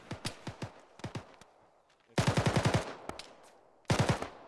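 Gunfire in the military shooter Arma during a ShackTac squad engagement: several single shots, then two sharp rapid bursts of automatic fire, loud and close with a short echoing tail after each.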